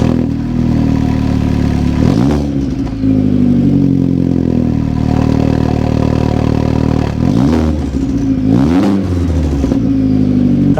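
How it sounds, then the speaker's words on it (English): Vauxhall Astra H VXR engine with a newly fitted sports catalytic converter, loud and close, idling steadily with two sharp revs around the two- and eight-second marks before settling back to a deep idle. "so let's start the car"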